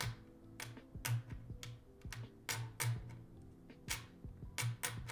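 Fast typing on a computer keyboard, a dense run of crisp key clicks and clacks in quick irregular bursts, close and fairly quiet.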